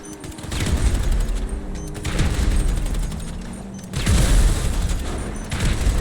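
Explosions and gunfire from pipe bombs detonating on contact in GTA Online, with loud booming blasts around 0, 2 and 4 seconds amid a continuous rattle of shots.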